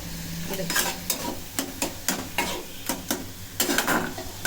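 A spoon stirs a homemade sweet mixture with cardamom in a pan, giving about ten rhythmic scraping strokes that sizzle against the metal, close and fairly loud, with no talking.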